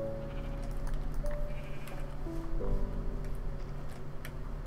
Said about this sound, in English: Good, there's two sheep.